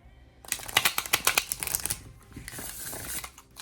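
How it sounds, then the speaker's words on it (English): A Baba Studio tarot deck being riffle shuffled, with a dense burst of rapid card flutter and snapping up close, then a softer bridge as the cards settle back together. "Ah, beautiful riffle, beautiful bridge. So smooth."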